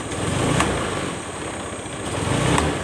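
A Honda Scoopy FI scooter with sluggish, delayed throttle response idles close by in a steady putter, with two short blips of the throttle about two seconds apart.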